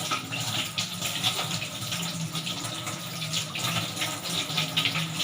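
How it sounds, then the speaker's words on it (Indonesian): Water runs steadily from a tap, a continuous splashing hiss with no voices. "Kemudian nyalakan keran,"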